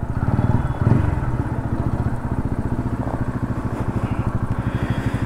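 A TVS Ronin 225 motorcycle engine running close by with a steady, rapid single-cylinder thump and a slight burst near the start; no speech.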